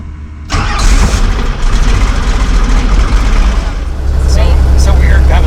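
A Robinson R44 Raven II helicopter's piston engine starts with a sudden loud catch and then settles into a steady, rough running drone close by, with talk over it.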